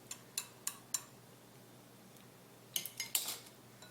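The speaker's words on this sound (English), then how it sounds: "I'm just going to whisk this all up." A whisk clinks against a bowl while mixing a Dijon mustard mixture: four quick, bright taps, a pause, then a second burst of rapid metallic clicks, close and fairly quiet.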